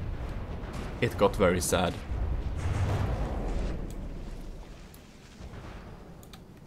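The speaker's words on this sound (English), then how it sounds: "Here we got some heavy explosions going on there." Heavy explosions hit a battleship in From The Depths, with deep booming blasts and crackling bursts rumbling in bursts while someone talks over them.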